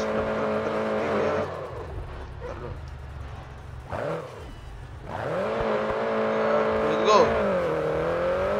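A car engine revs in the racing game Grid Autosport, a steady drone that rises and falls over several seconds, with a person talking briefly over it.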